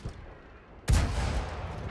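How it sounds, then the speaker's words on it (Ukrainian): After a quiet moment, a single heavy tank cannon blast from a video game booms out close by, followed by a lingering rumbling echo. "Невдалий постріл."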